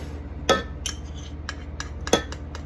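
Scooping the last of the peanut butter into a peanut butter bar mixture, with a few sharp metallic clinks of a utensil against a bowl, spaced irregularly, close and quiet.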